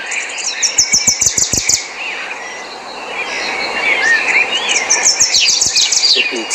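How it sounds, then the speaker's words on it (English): Bright chirping oriole calls in bursts at the start and end, with quieter warbling between, over a steady outdoor hum and a few low thumps. "The oriole is a medium-sized bird."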